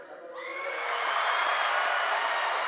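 Commencement crowd of graduates cheering and shouting from one side of a hall, building from a ragged start into a loud, continuous wall of whoops and screams that holds to the end.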